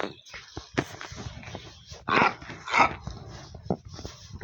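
A Minecraft dog barks and growls in several sharp bursts, close and loud, with a couple of stronger barks in the middle.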